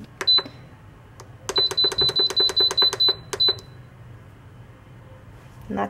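A cooker timer signals that bulgogi is done. One sharp electronic beep sounds first, and after a pause a quick, close burst of about ten more beeps follows.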